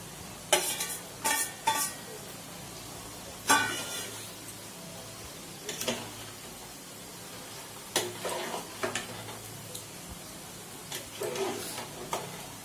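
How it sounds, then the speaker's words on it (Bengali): Vegetables for khichuri are stirred in a pan on the stove, with a soft, continuous sizzle underneath. A spoon scrapes the pan in short, sharp bursts at irregular intervals, and there is no talking. "একটু নাড়িয়ে নিলাম"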